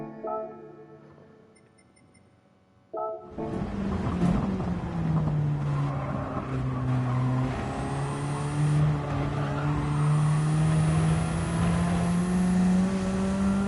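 A Radical race car in a racing video game at Road Atlanta idles briefly, then its engine bursts into a loud, sustained high-revving drone that rises and dips with the throttle, alone with no talk.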